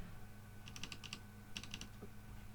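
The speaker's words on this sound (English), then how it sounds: "it has a typewriter sound to it" Fingers type on an Ajazz AKC087 mechanical keyboard, two quick bursts of crisp, typewriter-like clicks close up and quiet over low background hum.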